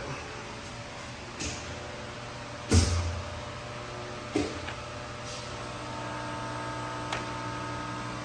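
A 3000 amp Dynapower 12 volt industrial rectifier runs with a steady low electrical hum and faint hiss, broken by a few brief clunks and knocks, no speech.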